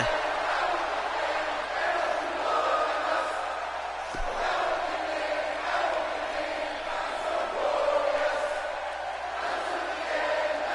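Arena crowd at a wrestling event singing a chant in unison, a steady roar of massed voices swelling and fading continuously throughout, loud and distant-sounding as a broad wash.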